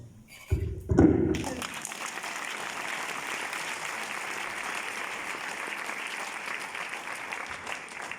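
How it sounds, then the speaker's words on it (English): An audience breaks into applause at a speech about protest and justice, beginning after a couple of loud thumps near the start, then settling into a steady, even round of clapping that carries on to the end. "A better applause."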